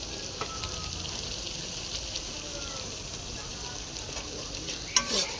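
Spices stirred through hot oil in a frying pan, chili powder and cumin powder among them, giving a steady close sizzle with a few scraping and clinking knocks from the utensil.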